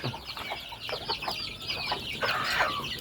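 Native chickens in a small backyard poultry pen cluck and murmur continuously at close range, several birds overlapping, with no talk.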